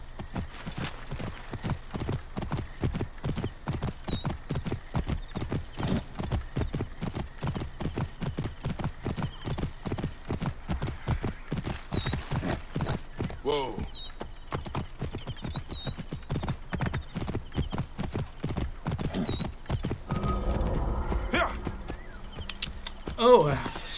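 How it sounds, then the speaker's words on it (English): Horse hooves clip-clop in a steady, rapid rhythm throughout, with a few high whinnies breaking through, as a mount scrambles over rocky ground in Assassin's Creed Origins; someone talks briefly over the hoofbeats. "it's my horse being a mountain goat"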